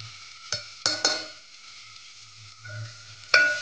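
Masala for mutton stirred in a hot pan, steady soft sizzling with a few sharp scrapes and clinks of a spoon against the metal, close and moderately quiet.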